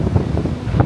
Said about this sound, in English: Blowing an absolute gale this afternoon now.